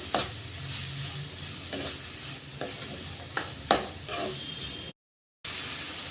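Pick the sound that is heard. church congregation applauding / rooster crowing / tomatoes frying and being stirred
tomatoes frying and being stirred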